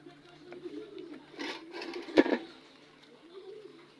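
Pigeons in a coop give low, soft cooing calls, faint and intermittent, with a sharp knock and some nearby rustling in the middle.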